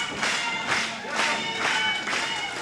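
Wrestling crowd at a live Tennessee All-Pro Wrestling show chanting in rhythmic swells, about four surging cheers in quick succession, loud and filling the arena.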